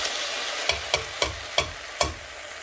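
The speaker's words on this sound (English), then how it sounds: "Hear that sizzling?" Onions and sausages sizzle steadily in a hot pan, with five sharp scraping stirs at an uneven rhythm over the constant frying hiss.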